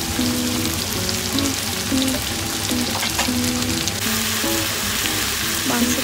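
Desi chicken pieces frying in a pan with tomato, giving a steady close sizzle with scattered crackles and faint stirring scrapes throughout, no voices.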